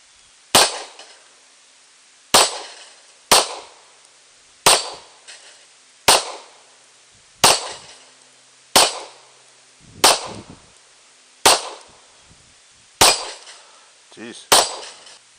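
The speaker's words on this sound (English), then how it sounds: "Cock loaded. Ready to fire, finger still out of the trigger." Eleven sharp, loud handgun shots fired one at a time with pauses of roughly one to two seconds, each crack ringing out and decaying, with faint voices between some shots.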